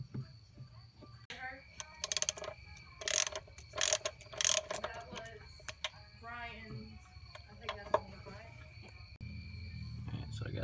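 A hand ratchet with a swivel socket works on the EGR bolts of a 1999 Ford F150, giving several bursts of sharp, close clicking between quieter stretches, with someone talking at times in between.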